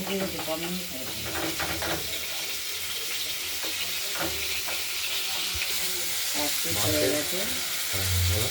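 Pieces of katla fish fry in hot oil in a pan, a steady loud sizzle with crackling spatter and occasional scraping as pieces are turned, continuing throughout with no talk.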